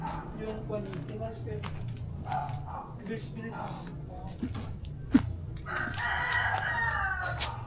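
Backyard chickens with a rooster, heard as several crowing and clucking calls over about eight seconds, loudest near the end, alongside steady background chatter and a sharp knock midway.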